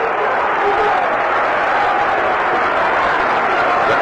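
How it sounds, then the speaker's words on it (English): Crowd at a Reds at Cubs baseball game applauding and murmuring steadily as Bruce Sutter warms up, a broad wash of clapping and voices held at an even level throughout. "The crowd noticed that and immediately reacted."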